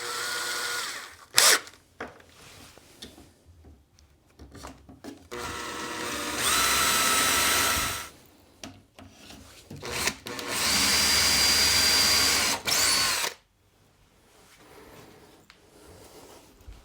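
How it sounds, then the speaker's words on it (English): A power drill drives screws into pilot holes in wood while assembling a flat-pack extending unit for a motorcycle campervan conversion, heard in a short burst and then two longer whirring runs separated by quiet handling noises. "So now we can pilot hole the rest"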